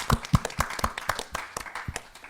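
A small audience claps through a live festival broadcast, a run of close, distinct handclaps with slightly uneven timing, loud and sharp at the start and then settling into steady scattered clapping with no voices over it.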